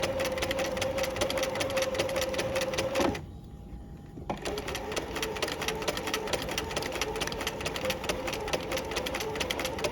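A sewing machine stitches a narrow rolled hem, running steadily and rapidly, pausing for about a second, then resuming at a slightly slower pace as the needle works over a thick seam.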